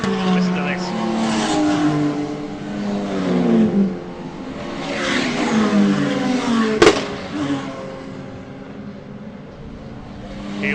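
Britcar race cars at Brands Hatch accelerate in a sprint to the line, engine notes rising and falling in steady harmonic drones under continuous commentary, with one sharp knock partway through.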